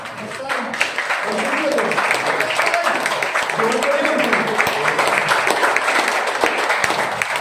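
Audience applause at an office meeting with a live cervical-relief demonstration: dense, steady clapping from a room full of people, sustained at an even level for the whole stretch.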